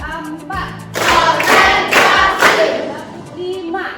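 Classroom pupils clap their hands together in a short patterned routine: a few sparse claps, then a loud burst of quick rhythmic clapping that fades to scattered claps, with children's voices faintly underneath.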